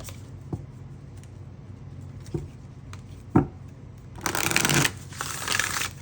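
Tarot cards being shuffled: a few soft isolated riffles, then a louder, sustained burst of rapid riffling near the end, close and clear with no talking.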